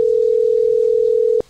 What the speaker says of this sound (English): when you call, you'll hear some sort of ring there, so you know that the phone's ringing